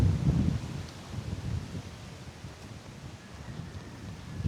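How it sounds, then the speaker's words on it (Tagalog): Strong wind gusts buffet the microphone at a lakeside campsite at Lumot Lake, a steady low roar with heavier blasts at the start and end, no voices. "Napakalakas ng hangin."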